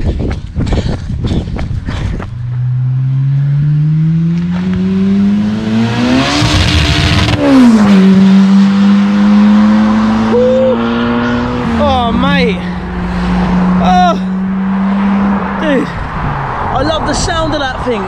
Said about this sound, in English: Running down the road to get the shots